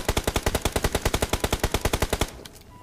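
Rapid automatic gunfire in the mobile battle-royale game PUBG Mobile: a loud, steady burst of about two dozen evenly spaced shots lasting just over two seconds, then a faint tail.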